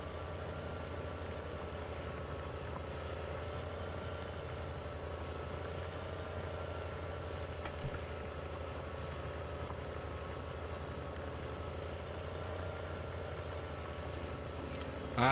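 A tractor engine in the Farming Simulator 19 video game runs steadily at a low idle, a constant rumbling drone with a faint mechanical whine, unchanging and alone throughout.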